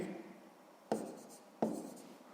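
Pen writing down a math answer on paper, a few close, quiet scratching strokes with two sharper taps as the pen meets the page.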